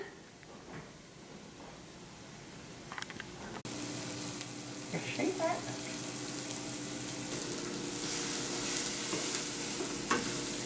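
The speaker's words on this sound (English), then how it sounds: "now that we've strained our pasta and browning our delicious garlic and sweet onion" Garlic and sweet onion sizzle and brown in a pan, a faint frying hiss that grows into a louder, steady crackle with occasional stirring scrapes, close by and without talk.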